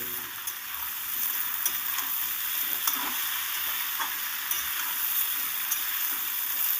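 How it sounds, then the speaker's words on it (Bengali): Radish, eggplant and beans fry together in a pan, giving a steady, fairly quiet sizzle with occasional faint crackles and stirring clicks, and no voices. "দিয়ে দিচ্ছি সিম দিয়ে সব সবজিগুলোকে একসাথে ভেজে নেবো"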